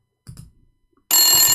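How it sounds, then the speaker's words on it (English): An old landline telephone's bell rings once in a short, bright metallic burst, loud and close. It follows a moment of near silence with a few faint soft knocks. "Phone, old phone."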